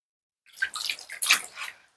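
Meat being washed by hand in a bowl of water: a short burst of splashing and sloshing, close and fairly loud, in two quick swirls.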